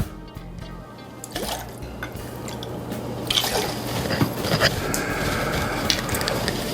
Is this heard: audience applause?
no